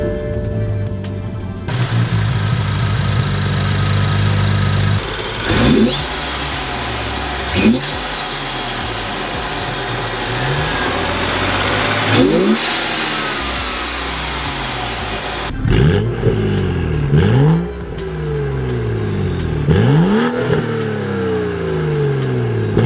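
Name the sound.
BMW 335i xDrive N55 turbo six-cylinder engine accelerating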